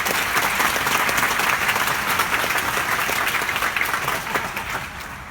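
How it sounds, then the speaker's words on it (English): An audience at a question-and-answer event with Congressman Hultgren breaks into sustained applause, a dense, steady wash of clapping that holds for several seconds before easing slightly at the end. "And let's give them another round of applause."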